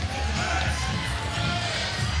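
Mongolian fans cheer steadily at a 3x3 basketball World Cup game, a dense, loud crowd roar with high shouts, and a commentator talks over it.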